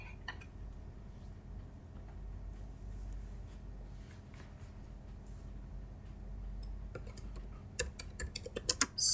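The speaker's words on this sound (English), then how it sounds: "and here we'll type" Typing on a computer keyboard, faint light key clicks over a low background hum, ending in a few louder, sharper taps.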